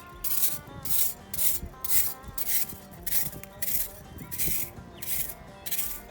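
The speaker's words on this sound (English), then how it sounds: "Helps to have a good stiff bristle brush." A stiff bristle brush scrubs rock in a gold mine, with rhythmic harsh back-and-forth strokes, about two per second, close and loud, and no talk.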